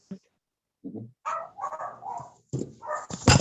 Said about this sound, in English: And your dogs are awake.